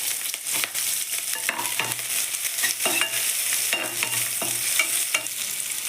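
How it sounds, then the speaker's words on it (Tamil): Chopped onions dropped into hot oil in a kadai with mustard seeds and chana dal, frying with a steady crackle, stirred repeatedly with scraping strokes, close and fairly quiet, no voices. "இப்போ நறுக்கி வச்சுருக்க ஆனியனை சேர்த்துக்கலாம்."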